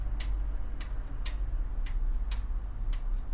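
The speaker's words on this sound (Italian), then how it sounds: "nei conventi si trovavano questi orologi così." An old convent clock ticks steadily and nearby, with six crisp evenly spaced ticks over a low constant hum.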